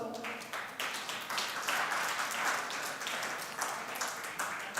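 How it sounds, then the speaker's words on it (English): A seminar audience claps to welcome the chairpersons at a legal conference on medical negligence. The applause is modest and uneven, with individual hand claps standing out from a thin, scattered patter in the hall. "Let us welcome our esteemed chairpersons with a warm round of applause"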